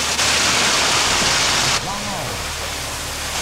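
Fast-flowing mountain spring water rushing loudly and steadily, a dense close hiss of running water filling the whole moment.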